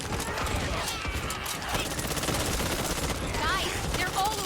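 Rapid video-game gunfire in Back 4 Blood, dense bursts of automatic shots filling the scene steadily, with chatter and effects layered on top.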